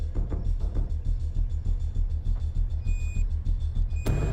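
A radiation dosimeter beeps in short repeated tones, faint high pips heard over a loud steady rumble of engine or vehicle noise.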